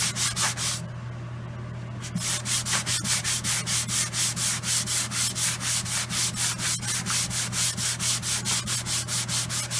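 Fine 180-grit sandpaper rubs over guitar wood in quick, steady back-and-forth strokes, a close, even rasping rhythm that pauses briefly near the start and then continues without talk.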